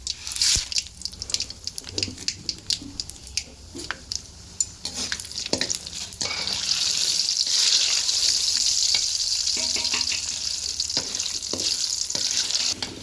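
Mustard seeds, chana dal and peanuts fry in hot oil, with scattered pops and clinks for the first half, then a steady loud sizzle swelling as more goes into the pan, with stirring scrapes throughout.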